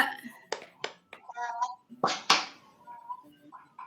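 A group of women playing a clapping game in a classroom-style session produce two sharp claps, mixed with brief chatter and voices around them.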